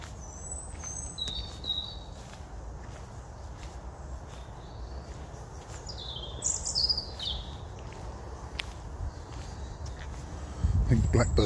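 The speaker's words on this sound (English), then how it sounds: "Here are the blackbirds." Blackbirds sing in pitch darkness with other songbirds nearby, giving scattered high fluting phrases at a moderate distance. A constant low rumble runs underneath, and a heavier rumble builds at the end.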